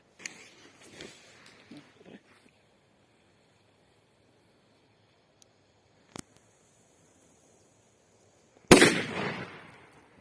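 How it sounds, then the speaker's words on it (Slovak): A Hammer firecracker goes off with a single sharp, loud bang near the end, preceded by faint fuse crackle and small clicks, then a brief decaying tail. "Petarda Hammer."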